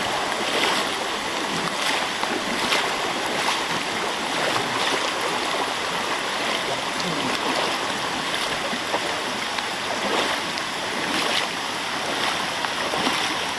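A creek swollen by Hurricane Helene flooding rushes steadily past, a continuous broad wash of flowing water close by, with no voices over it.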